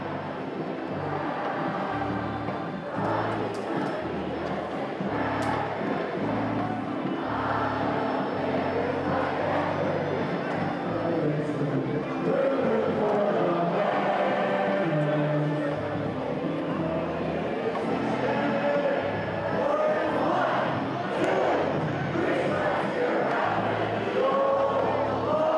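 A rowdy crowd of about 4,000 fills historic Grayson Stadium during a Banana Ball baseball game at the evening stretch, with a loud, dense roar of voices, cheers and shouts rising and falling throughout.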